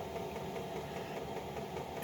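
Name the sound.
Chinese diesel heater running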